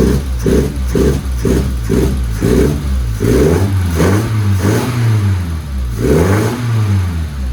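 A Lotus Elan sports car engine revs repeatedly, quick throttle blips rising and falling over a deep rumbling idle with some ticking, loud and close.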